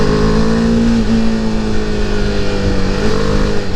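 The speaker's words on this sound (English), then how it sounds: "I need some place to open up the throttle." A BMW G310R single-cylinder motorcycle engine held at high revs with the throttle open, a loud, steady buzzing drone with a slight pitch dip and recovery, heard close with no talking.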